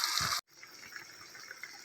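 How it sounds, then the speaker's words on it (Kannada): Water gushes briefly into a pan of chicken being cooked for ginger chicken, a loud splashing pour that cuts off abruptly, followed by faint quiet kitchen sounds. "ಸ್ವಲ್ಪ ಚಿಕನ್ ಬೇಯಷ್ಟು ನೀರು ಹಾಕೋಣ."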